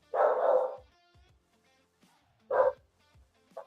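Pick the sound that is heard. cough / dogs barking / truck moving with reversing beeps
dogs barking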